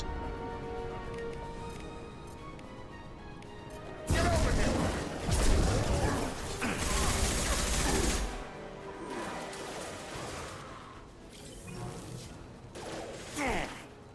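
Bursts of gunfire and impacts in the sci-fi shooter Mass Effect 2, loud sustained volleys in the middle stretch over a quieter music bed, with a voice speaking at moments.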